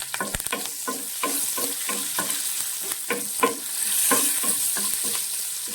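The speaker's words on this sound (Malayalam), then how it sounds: "ഒരു 3-4 പച്ചമുളക്, ഇത്ര ഇട്ട് നന്നായിട്ടൊന്ന് സോട്ട് ചെയ്യുക" Green chillies sizzle in hot oil while a spoon scrapes and stirs the pan in a steady rhythm, close and fairly loud.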